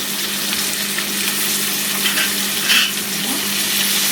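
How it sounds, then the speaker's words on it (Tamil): Onions and green chili sauté in hot oil for a prawn gravy, giving a steady, loud, close sizzle and frying hiss with faint stirring scrapes and no talk. "எல்லாத்தையும் போட்டு நல்லா வதக்கி விட்டுக்கலாம்"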